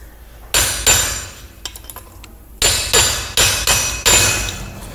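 Hammer blows riveting new linings onto a clutch pressure plate in a workshop: two sharp strikes, a cluster of lighter taps, then five loud, evenly spaced ringing metallic hits close by, with no talking.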